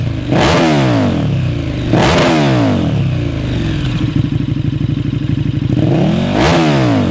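Loud, close blips from a KTM motorcycle with an Austin Racing exhaust and catalytic converter: three quick throttle revs separated by a rough, burbling idle, with no voices.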